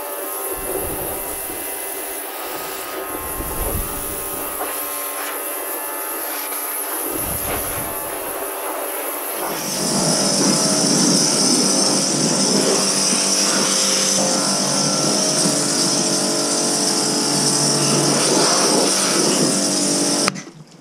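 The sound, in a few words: pressure washer rinsing a 2019 dirt bike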